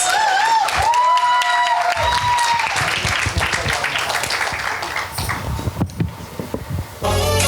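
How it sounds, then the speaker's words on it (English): An audience at a live event breaks into loud applause with some cheering, while a voice carries over the start before the clapping thins out near the end. "Please go ahead and give a big round of applause"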